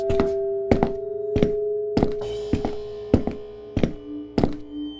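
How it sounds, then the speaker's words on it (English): Heavy footsteps thud upstairs in the Smurl family home at night, eight loud, evenly spaced thumps over a steady low hum. "the family was awakened by the loud thud of footsteps upstairs"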